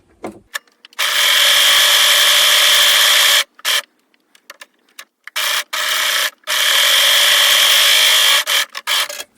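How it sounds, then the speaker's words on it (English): A serger trimming about a quarter inch off children's sleeve hems, loud close buzzing motor bursts that run in several long stretches broken by short stops, with no talking. "I'm preparing the sleeve hems by serging off about 1/4 of an inch from the bottom."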